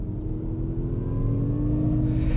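Mazda MX-30 electric car's artificial drive sound, a steady synthetic hum with layered tonal lines that rises gradually in pitch and intensity as the pedal is pressed harder under load, heard alone at close range.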